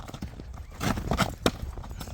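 A horse, a young foal being sold, walks close by, its hooves clip-clopping in a loose uneven rhythm with a few sharper strikes, amid light outdoor background noise and no clear talk.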